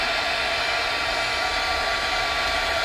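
A steady, loud blast of hot air from a heat tool on a low setting, used for gel printing, a constant broadband whoosh with no pauses for the whole stretch.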